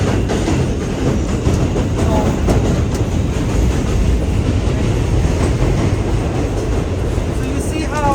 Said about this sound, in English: So you see how we're going through the East River Tunnel now? And you see how the train is shaking?